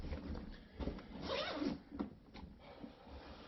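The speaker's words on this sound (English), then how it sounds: "I find that the zipper generally works pretty well." The zipper on a SWISSGEAR Altitude carry-on suitcase being pulled, a quiet series of short rasping zips and tugs at close range.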